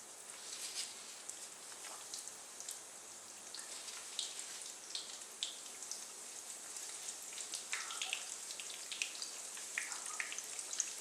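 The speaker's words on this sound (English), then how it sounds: "so I'm just going to drop all these donut holes in" Quiet, steady crackling and popping of potato donut holes frying in hot oil, with scattered sharp spits rising over a soft sizzle.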